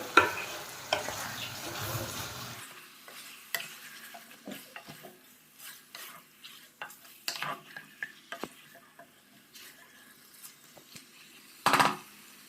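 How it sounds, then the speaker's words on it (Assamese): A spoon stirring local chicken curry in a pot as the meat releases water and oil, with scraping and clinking strokes up close and a soft sizzle that fades after the first few seconds. "মাংসখিনিৰ পৰা পানী ওলাইছে, ভালকৈ লৰাই দিওঁ।"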